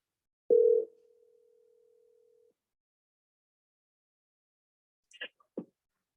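Telephone call being forwarded: one short, faint tone sounds, then a long steady tone, then silence, then a couple of soft clicks near the end.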